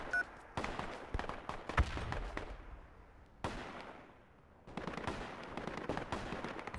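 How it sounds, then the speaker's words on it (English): Gunfire erupts inside a room in the military shooter Project Reality: loud, ragged bursts of rapid shots come in several clusters, separated by brief lulls, with sharp cracks and echoing tails. "they're shooting inside your room"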